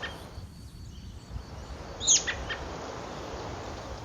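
Galito, a diurnal bird of the Cerrado grassland, gives a brief high chirping call near the two-second mark, fairly faint over a steady background hiss of open country.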